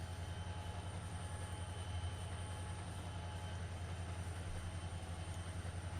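A simulated Norfolk Southern freight train in Trainz Simulator 2 rumbles along with a low, steady rolling drone and faint rhythmic wheel beats, continuous and even throughout.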